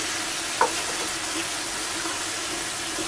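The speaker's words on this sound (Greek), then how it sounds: "Θα το σοτάρουμε για 1 λεπτό" Orzo sautés in a pot with a steady broadband sizzle and a brief scrape of stirring, close and continuous, with no voices.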